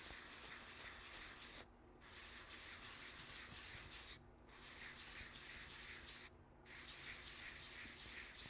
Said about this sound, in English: deglaze them by rubbing them on some wet or dry sandpaper